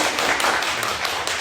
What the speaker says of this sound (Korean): 박수를 한번 우리 응원할까요?